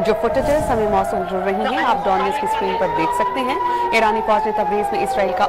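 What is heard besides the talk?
air raid sirens in Israeli cities after Iranian missile attack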